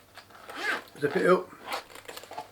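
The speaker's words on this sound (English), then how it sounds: "Zip it up" A zipper is pulled along a monocular case in a few quick rasping strokes, close up and fairly quiet, with brief pauses between pulls.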